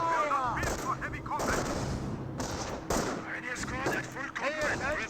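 An MG42 machine gun fires in bursts during a Company of Heroes 1 match, mixed with other battle gunfire and explosions, under a commentator's voice.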